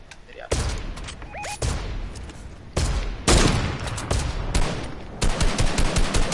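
Gunfire in the video game Fortnite crackles in repeated loud, close bursts of rapid shots, separated by short pauses, with rattling automatic volleys and single sharp cracks.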